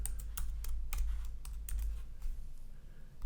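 Quick bursts of keystrokes on a computer keyboard as login details are typed, crisp clicks in irregular runs at close range in a quiet room.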